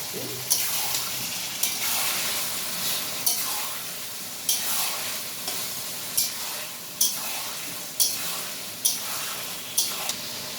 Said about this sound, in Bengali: তারপরে দিলাম আদা বাটা এবার এগুলোকে ভালো করে কষিয়ে নেব